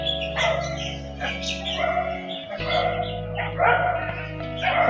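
Several dogs bark and yip in short bursts close by, with a steady low hum running underneath and a brief dip midway.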